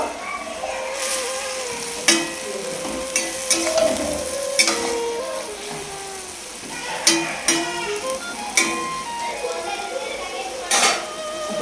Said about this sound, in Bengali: বেশি না লাগে হেলেঞ্চা শাকটা দিয়ে এখন নাড়াচাড়া দিয়ে আমি রেখে দেবো।